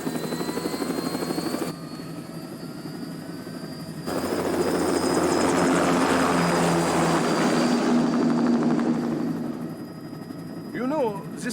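A spacecraft lifts off in a video game cutscene, a loud, sustained engine roar that swells into a heavy rumble and then eases off, with a brief whine near the end.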